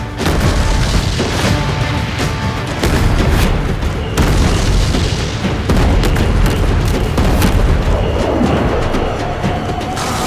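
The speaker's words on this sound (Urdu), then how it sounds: "سلطان کے حکم پر ان توپوں کو چلا دیا گیا جن کے رخ بیرکس کی طرف تھے" Ottoman cannons fire on the Janissary barracks in a string of heavy, booming blasts that roll into one another, loud and dense for the whole stretch.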